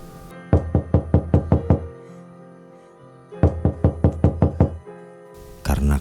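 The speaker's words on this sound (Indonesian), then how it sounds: "Dan suara ketukan pintu pun terdengar lagi." A house door is knocked on at night: two separate bursts of about seven sharp, evenly spaced raps each, loud and close, with a quiet pause between them.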